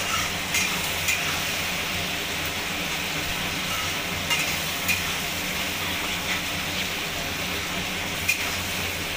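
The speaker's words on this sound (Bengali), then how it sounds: "ভালো করে নাড়িয়ে নিচ্ছি পেঁয়াজটাকে" Onion being stirred and fried in a pan, a steady soft hiss of sizzling with occasional faint scrapes of the spoon, even and moderately quiet throughout.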